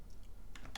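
A few soft computer keyboard presses, light quiet clicks close by, with a short cluster of taps near the end and no talking.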